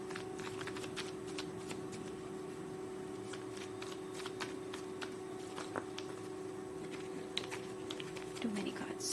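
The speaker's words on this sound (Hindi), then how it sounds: "एक ऑरेकल कार्ड पुल कर लेते हैं ताकि थोड़ा और क्लैरिटी मिले सिचुएशन में" Oracle cards shuffled by hand, soft flicking card sounds repeating over a steady low hum, quiet and close, with a faint voice near the end.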